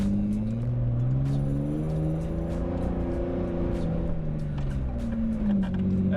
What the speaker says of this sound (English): That was just 4K revs the whole way, full noise, full throttle.